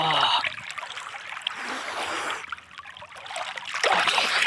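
Strong sea current rushing and splashing around a swimmer at a beach, a steady broadband water wash that swells and dips, with brief voices in between.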